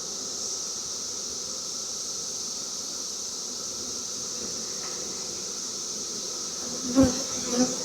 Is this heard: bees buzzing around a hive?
yes